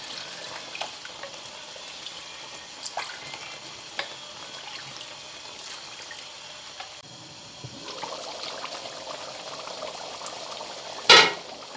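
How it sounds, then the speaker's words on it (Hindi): Chickpea cooking water is poured into a kadai of frying chickpeas for Lahori-style chikar chole, a steady sizzle rising into louder bubbling and spattering midway, ending in one sharp clatter. "अब हमारे पास ये जो पानी पड़ा हुआ है चनों का, ये हम इसमें शामिल कर देते हैं।"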